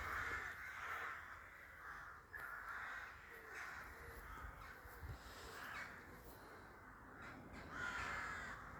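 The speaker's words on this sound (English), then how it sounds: "There's a lot of birds making a lot of noise." Many crows caw noisily and repeatedly, their harsh calls overlapping against outdoor background noise, with a brief spoken word at one point.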